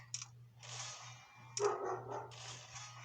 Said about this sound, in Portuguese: Ó o cachorro.